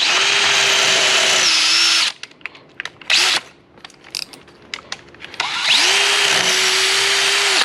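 A power drill with a masonry bit bores an anchor hole, whining loudly for two bursts of a few seconds each, with brief clatter and handling noises in the pause between.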